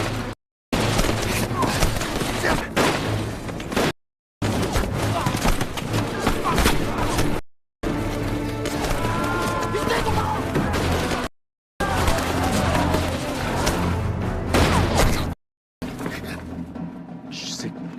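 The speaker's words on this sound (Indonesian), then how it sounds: "ternyata tembakan tersebut berasal dari seorang sniper, yaitu Kapten Lee Chang-ha" Bursts of sniper gunfire from a Korean war film scene ring out in loud, dense segments split by short silent gaps, with heavy booming impacts and a steady musical score beneath.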